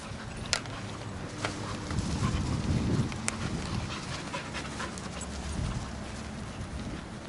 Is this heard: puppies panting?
yes